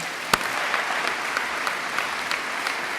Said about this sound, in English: Let's please give a huge round of applause to the graduating class